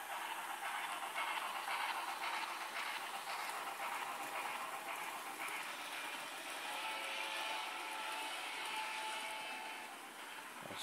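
An N-gauge or OO-scale Hornby model train shunter locomotive runs under DCC control with its sound playing, giving a steady hissing, rumbling rail-like drone that continues evenly throughout with no speech.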